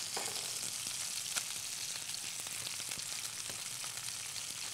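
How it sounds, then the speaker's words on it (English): Cooked quinoa sizzles steadily in a hot pan while it is stirred, making a continuous crackling hiss with light scraping taps, close and fairly quiet, with no voices. "now let's stir up this quinoa"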